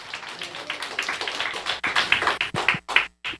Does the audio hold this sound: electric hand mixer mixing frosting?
no